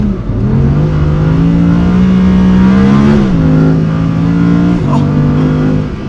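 An Audi R8 GT's V10 engine revs hard at full throttle, a loud, steady howl that climbs in pitch with brief dips at gear changes, heard from inside the car.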